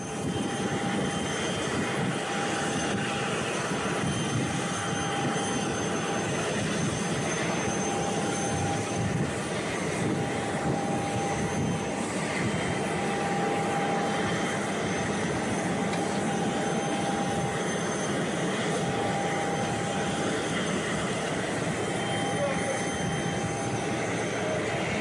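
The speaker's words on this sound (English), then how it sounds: "So you will see Elizabeth Warren descending from the steps of a private jet, a chartered jet" A private chartered jet gives off a steady, unbroken roar and whine, like engines idling on the ground. It stays at an even loudness throughout, with no voices.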